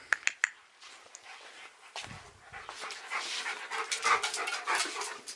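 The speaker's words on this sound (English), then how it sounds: "Good girl, drink that water." A dog drinks water and pants close by, starting with a few sharp lapping clicks and moving into a steady run of quick, breathy panting with no one talking.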